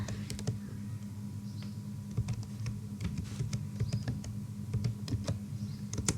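Keys clatter on a computer keyboard as a search is typed into Google, a close, light run of taps over a steady low hum with no voices.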